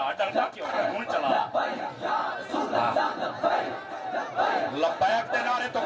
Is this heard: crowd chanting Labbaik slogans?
yes